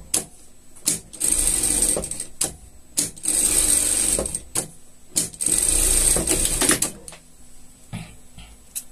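A seam is run on a sewing machine for a pet poncho: repeated whirring stitching bursts of one to two seconds separated by clicks and pauses, close and loud, with no voices.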